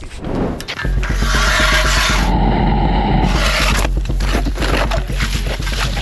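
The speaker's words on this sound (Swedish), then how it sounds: "Första hålet borrat på nya Stora sjön" A drill auger boring a hole through lake ice on a large lake in winter, a loud continuous grinding scrape with a steady motor drone, close up and running for most of the clip.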